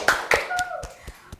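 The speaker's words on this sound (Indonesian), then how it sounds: "Tepuk tangan dulu buat kita semua hari ini." A group of students in a biology class clapping together, a few short bursts of hand claps close by, with chatter and a voice mixed in.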